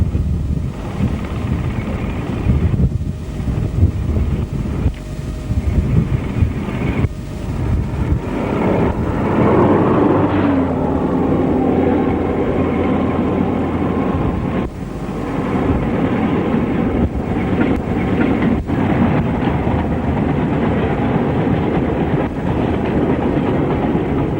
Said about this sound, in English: 4086 crosses Ribblehead on the 2nd of May 1983.